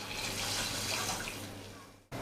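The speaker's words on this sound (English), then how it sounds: "I'm adding in another half cup of water." Water from a tap runs and splashes into a cooking pot for a Kottayam-style Kerala fish curry, a brief, fairly soft steady pour that cuts off near the end.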